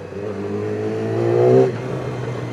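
A Yamaha R6 motorcycle engine idles with a steady, loud drone, rising briefly in a short rev before dropping back to a rough idle, heard alone without talk.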